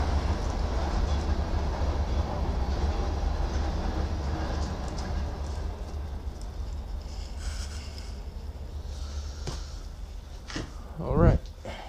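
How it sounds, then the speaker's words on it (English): A freight train passes nearby as a dense, rumbling roar with rattling wagons, gradually fading over several seconds, then a brief clatter near the end; a voice is faintly present underneath. "the freight train comes through again"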